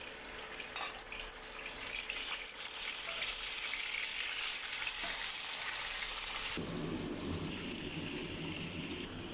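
Steady hissing and sizzling of fish frying in hot oil, continuous and fairly close, with a brief shift in texture partway through.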